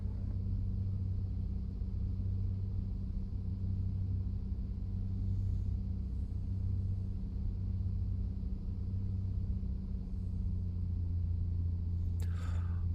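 A2A Comanche 250 light aircraft engine droning in flight in Microsoft Flight Simulator 2020, a steady low rumbling hum throughout with a brief click near the end.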